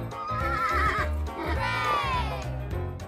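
A horse gives a loud, close whinny with wavering pitch, followed by a second rising-and-falling neigh over a low rumbling background.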